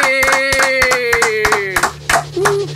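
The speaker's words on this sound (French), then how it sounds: "On s'applaudit." Podcast hosts clap for themselves in a studio, a run of sharp, separate hand claps close to the microphone over a sustained musical tone, with short voiced bits between.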